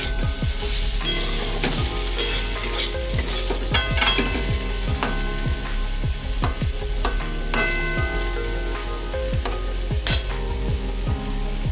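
Bitter gourd cooks in a pan on a gas stove, giving a steady, close sizzle and bubbling throughout, broken by frequent scraping stirs and light metallic clinks against the pan.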